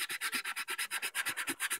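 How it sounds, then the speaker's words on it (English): Light hand-sanding of Bondo filler on a Rubies First Order stormtrooper mask: quick, even back-and-forth rubbing strokes, about eight per second, close and soft, with no talk. "I'm going to start very lightly sanding down the Bondo."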